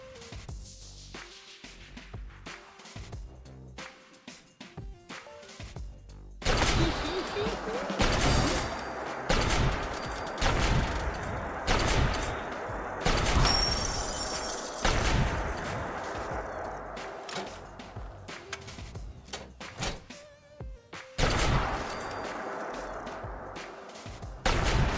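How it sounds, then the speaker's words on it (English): Crystallizer plasma shard weapon in Fallout 4, a shotgun-like sci-fi gun, fires in a run of loud, sharp bursts with crackling energy tails, repeated volleys spread across the stretch and clustered more densely after the first few seconds. "It fires 6 plasma shards, and when it hits enemies it causes bleeding"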